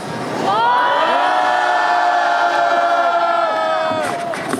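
A crowd at a candlelight protest rally in Incheon cheers and shouts together in one sustained, loud, tonal swell that fades after a few seconds.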